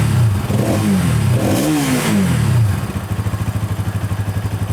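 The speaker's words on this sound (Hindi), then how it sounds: "ये एग्जॉस्ट नोट था इस 200cc लिक्विड कूल्ड इंजन का" A 2023 Bajaj Pulsar NS 200 motorcycle's 200cc liquid-cooled engine revs up twice with rising, falling snarls, then settles into a steady, throbbing idle with a rapid exhaust pulse, close by.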